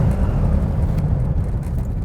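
A classic car brakes hard on a straight, level road, heard from inside as a steady, loud engine and road rumble that holds for about two seconds with no voices.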